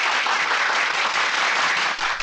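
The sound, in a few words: applause, clapping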